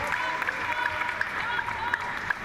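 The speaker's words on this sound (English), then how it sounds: "a big bellowing cheer that." A crowd roars and applauds at a para table tennis match after a long rally, a steady wash of cheering and clapping that holds at full strength throughout.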